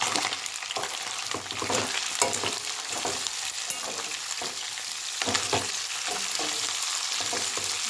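Curry leaves and onion frying in oil in a pan for chicken gravy fry, a dense, steady sizzle close up with repeated soft stirring scrapes, no speech.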